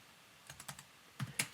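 A handful of quick keystrokes on a computer keyboard, soft and close, in two short bursts separated by a pause, with no talking.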